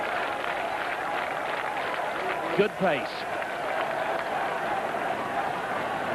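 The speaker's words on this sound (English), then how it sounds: "And the crowd already chanting." A stadium crowd at a 1980 Bislett 1500m athletics race produces a steady, broad roar throughout, with a commentator speaking briefly over it midway.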